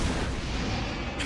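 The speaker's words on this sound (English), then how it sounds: "Blood demon art. Exploding blood!" A short, dense burst of booming explosion noise from the Exploding Blood demon art in Demon Slayer, loud and broadband, lasting just over a second without talking.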